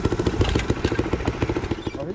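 A Honda XR100 dirt bike with an altered-sounding exhaust runs close by, its engine and exhaust popping in a fast, uneven rhythm, loud throughout.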